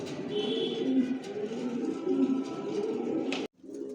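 Several adult racing pigeons coo in low, throaty overlapping calls, close by and continuous, ending with an abrupt knock.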